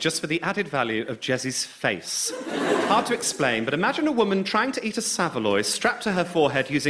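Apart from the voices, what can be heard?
No everyday noises stand out.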